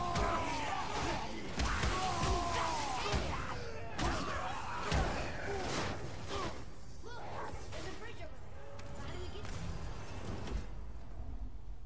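A God of War character lets out loud yells and bellowing roars amid combat, with thuds, whooshes and impacts scattered through a busy, sustained fight mix.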